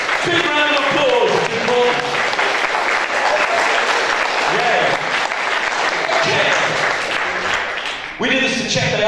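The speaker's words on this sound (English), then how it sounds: "Give them a big round of applause together, big round of applause" An audience at an Oxford Think Week lecture on social compliance breaks into loud, sustained applause, dense clapping filling the room for several seconds, fading briefly before a renewed burst, with some voices mixed in.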